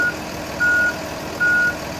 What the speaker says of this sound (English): my reverse lamps and alarms are sounding and active